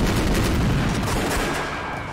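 Dense, continuous video game gunfire fills the scene: a loud, rapid barrage of automatic fire with booming sniper-like shots, from a Rose Guns Days battle.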